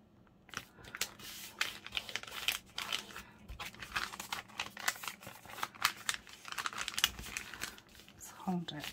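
A paper envelope is folded over while being made into a junk journal notebook, giving continuous close crinkling, creasing and rustling with quick irregular bursts.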